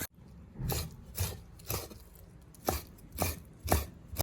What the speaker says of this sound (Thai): แล้วก็ต้องมาหั่นซอย ละเอียดละเอียดก่อนเพื่อจะสับ